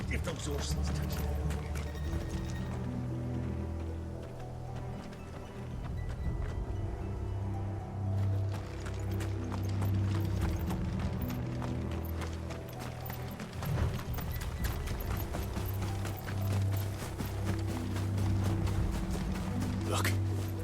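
Horses gallop in a Final Fantasy 16 scene, their clip-clop hooves thudding steadily and loudly over low rumbling game music, with voices speaking over part of the run.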